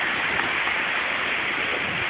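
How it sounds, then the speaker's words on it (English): Heavy rain pouring down during a windy storm with trees bending, a dense steady hiss of water close by, loud and unbroken. "this rain's coming in right here"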